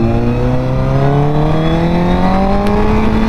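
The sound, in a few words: Honda CBR1000RR motorcycle engine revving while accelerating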